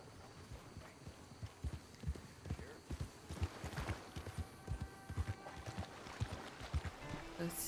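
Horse hooves clip-clopping at a steady riding pace in Red Dead Redemption 2, a quiet rhythmic series of thuds in an outdoor game scene, with faint ambient sounds around them.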